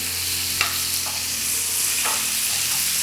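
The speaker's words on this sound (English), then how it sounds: "And I'm going to start basting it now." A caramelized steak sizzles in a pan while being basted with butter, a steady loud frying hiss with occasional spoon scrapes and small pops, no voices.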